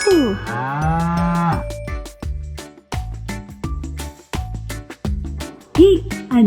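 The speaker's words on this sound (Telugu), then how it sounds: "ఆవు" A cow gives a long, loud, close moo at the start, followed by a bouncy children's rhyme tune with a steady beat, and a short bright call near the end.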